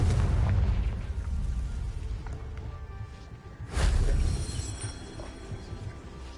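A Confringo blasting spell explodes in the Hogwarts Legacy video game, giving a loud deep boom with a burst of broadband noise midway through, over continuous low rumbling game ambience.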